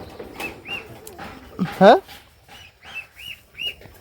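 Young goslings give short, rising peeps in a quick series, with one louder squawk in the middle, while people talk nearby over them.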